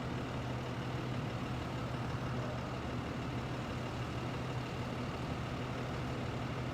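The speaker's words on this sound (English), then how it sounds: "the truck that's unloading, truck number 4, comes back out." A truck engine idles steadily while unloading at the Arizona State Fair, a continuous low rumble heard alone at moderate distance with no voices.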